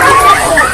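Two dogs bark at a cat standing quietly, the barking loud and close amid a noisy jumble of yips and whines over a short burst.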